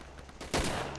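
A 20mm flak gun fires in the World War II shooter game Darkest Hour during a St Clement assault, a sharp distant burst cutting through a low battlefield rumble, brief and moderately loud.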